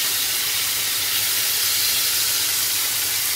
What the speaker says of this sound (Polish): Wołowe mięso mielone się smaży